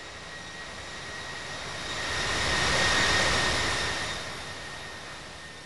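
Jet engine roar from a Boeing 777-200F cargo jet taxiing in the Infinite Flight simulator, a steady broadband whoosh with a faint whine that swells louder in the middle and fades back.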